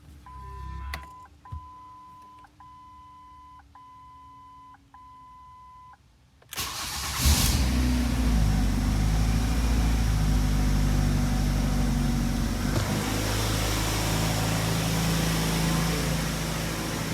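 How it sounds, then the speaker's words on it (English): A Ford Focus that has sat for a week, 14 years old and overdue for a tune-up. Chimes sound first, then the starter cranks briefly and the engine catches, settling into a steady, close idle. "start it up, do a first startup"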